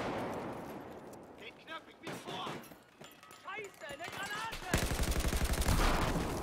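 Gunfire in the Battlefield 4 multiplayer game, with sporadic shots under German voices at first, then a dense burst of rapid automatic fire that grows loud toward the end.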